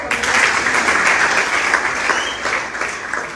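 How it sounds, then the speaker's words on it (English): A crowd at a political rally for a party presidential primary claps steadily, a dense wash of applause that stays loud throughout. "Please, a round of applause"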